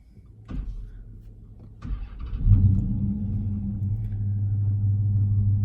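A 2019 Dodge Challenger R/T Shaker with a 6-speed manual and active exhaust cranks and fires up, then settles into a loud, deep rumbling idle with a brief rev, close by.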